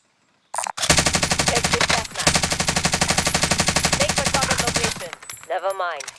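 Rapid automatic gunfire from the Warzone video game rattles loudly and close in a long sustained burst with a brief break, then stops as a voice speaks at the end.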